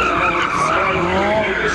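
Chevrolet Camaro with tires squealing as it drives onto the central stage at a tuning car show, a loud continuous skidding screech over engine noise.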